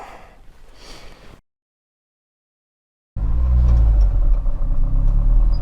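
A turbocharged 1994 Honda Del Sol VTEC engine idles with a steady, loud, close rumble after a faint stretch and a brief silence, with no one speaking.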